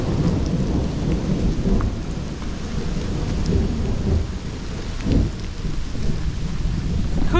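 Heavy rain pours steadily during an outdoor hike, with deep thunder rumbling and swelling through the dense, constant hiss of the downpour; no voices.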